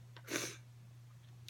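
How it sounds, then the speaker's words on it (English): A single short human sneeze, close and fairly quiet, followed by soft breathing over a steady low electrical hum. "gotta sneeze again"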